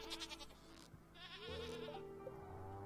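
Sheep in the farming game Stardew Valley bleat in quick succession: several wavering, nasal bleats layered over a quiet game soundtrack, with no talking.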